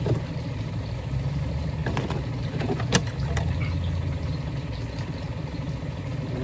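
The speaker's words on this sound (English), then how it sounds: "I hear a boat." A boat passing on a river near a sandbar campsite, heard as a steady, moderately loud low engine drone that holds constant throughout, with a few faint clicks on top.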